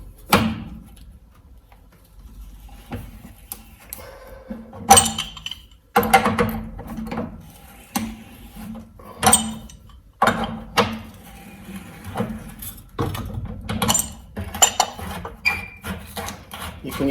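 Metal clanks and scraping clicks come in irregular bursts as a pipe wrench works loose the supply lines on a household water heater, with short knocks and ratchety handling noises between quiet gaps.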